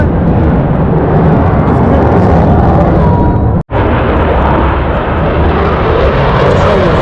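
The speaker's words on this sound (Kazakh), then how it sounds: "Онда самолеттер ұшып жатыр." A loud, continuous roar of jet aircraft engines at the MCAS Miramar Air Show 2025 in San Diego fills the air, broken by a brief instant of silence, then the heavy rumble resumes.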